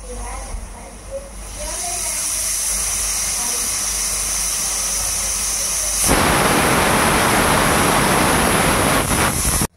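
A pressure cooker of lentils on a gas stove hisses and whistles steadily, a thin high whistle over a low hiss, then bursts into a loud, roaring rush of escaping steam for the final few seconds.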